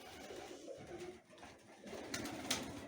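Ornamental pigeons cooing softly inside a loft, with light rustling and scattered bird calls over a steady background hum.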